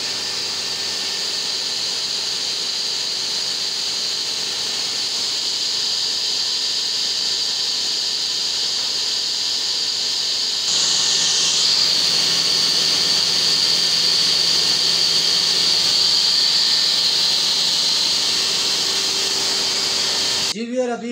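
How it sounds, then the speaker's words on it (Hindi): A table saw with a 3 hp single-phase 2800 rpm motor runs with a steady high whine, which shifts to a sharper pitch partway through before cutting off at the end. "3 हॉर्स पावर की सिंगल फेज मोटर लगी हुई है, जिसके आरपीएम है 2800 आरपीएम वाली ये मोटर है।"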